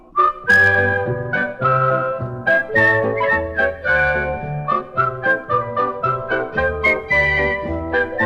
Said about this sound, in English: Then a tune, then a tune, you can whistle or can croon.